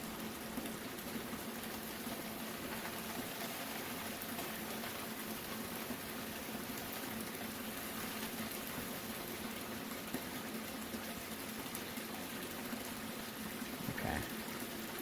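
Water rushes steadily through a Tyke Strike gold concentrator as it washes dirt, a constant close gushing and splashing with no pauses.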